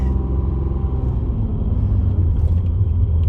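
A 1986 Renault Alpine GT Atmo drives along, its engine a steady low rumble heard from inside the car, continuous and fairly loud with no talking.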